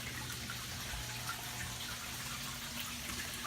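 Water trickles steadily through the downspouts of a gravity-fed hydroponic system fitted with small control valves, a continuous close, soft flowing wash with a faint low hum underneath.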